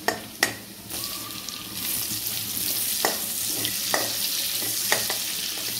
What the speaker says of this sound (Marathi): कांदा थोडा ब्राऊन गोल्डन ब्राऊन होईपर्यंत आपल्याला शिजू